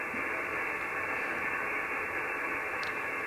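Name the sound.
HF radio receiver static noise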